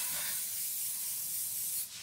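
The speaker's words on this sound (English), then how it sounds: "So this is the lidocaine spray." Lidocaine spray released from a can in a short, continuous hissing burst lasting about two seconds, close and steady before cutting off.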